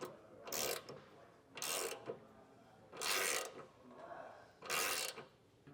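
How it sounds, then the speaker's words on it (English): A ratchet runs a bolt in and out of a trailer hitch mounting hole on a 2015 Ford Transit T250 frame: four short, evenly spaced bursts of rapid clicking, close up, with quiet gaps between. "you can take a ratchet to it and thread it all the way in and out a few times"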